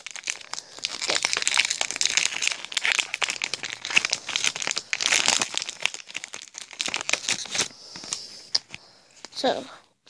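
Crinkly plastic wrapping on a Pokémon card tin is pulled and torn open by hand up close, a dense run of crackling rips that thins out near the end.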